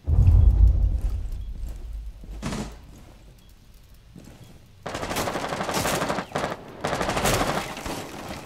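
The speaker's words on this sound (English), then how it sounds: "they're shooting your window from the roof" Gunfire erupts from a roof position in the video game Rainbow Six Siege: a loud, heavy burst opens, then the sound thins, and sustained rapid automatic fire follows in dense, nearby volleys with brief breaks.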